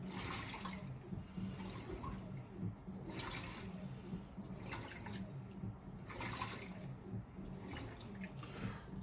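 An LG top-load washer with an agitator starts its wash cycle, water rushing steadily into the drum with a low churning hum and periodic surging swells, continuous at moderate distance.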